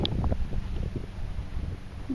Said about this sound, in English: today is windy